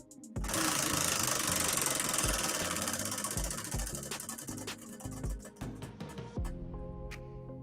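Prize wheel spun for a $10 giveaway, its ratchet clicking rapidly at first, then the clicks spacing out and slowing before it stops, heard alone without talk.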